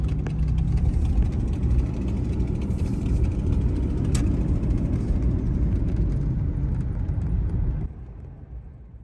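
A car driving along a road through small communities in the Northeast US, a steady, loud engine and road rumble that drops sharply near the end.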